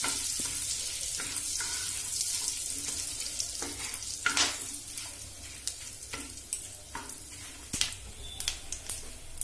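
Whole cumin, bay leaves and garam masala frying in a pan for white paneer, a steady close sizzle punctuated by sharp clicks and scraping knocks of a utensil, growing more frequent toward the end, with no speech.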